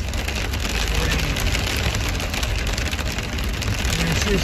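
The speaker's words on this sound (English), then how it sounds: "Listen to this rain coming down. This is crazy." Dense, heavy rain mixed with hail drums continuously on a moving van, a loud, unbroken hiss and clatter close around the vehicle with no pauses.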